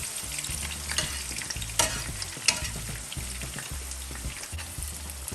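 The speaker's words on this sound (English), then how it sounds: "I like when the seasonings fry in the oil first and get all that flavor in there" Crushed garlic, tomatoes and onions fry in oil for mackerel fish patties, giving a steady close sizzle with repeated stirring scrapes and a few sharper clicks, and no voices.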